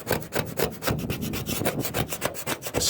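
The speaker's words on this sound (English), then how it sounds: "I'm probably been a bit rough with this scraper on that roof" A scraper rasps paint off the roof of a Citroen C4 Grand Picasso in rapid, rhythmic back-and-forth strokes, close and steady with no talking.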